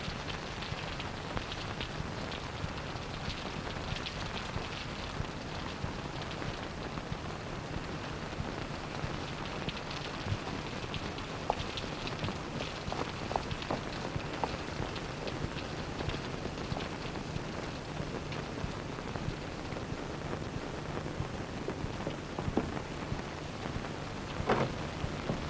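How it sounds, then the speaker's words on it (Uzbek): Heavy rain pouring down in a steady, dense hiss that holds evenly throughout, with faint scattered patters and no voices. "Yomg'irni juda yaxshi ko'raman. Ayniqsa sharros quysa."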